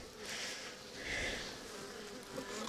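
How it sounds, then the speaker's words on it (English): Honeybees buzz around an opened hive being inspected by a beekeeper as frames of honey are removed, a dense steady hum of many insects close by with individual bees droning past. "That's basically all the bees in the hive."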